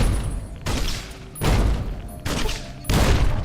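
Grenade machine gun in Fallout: New Vegas fired as single shots, four loud booming blasts spaced roughly evenly, each with a long rumbling tail, no talk.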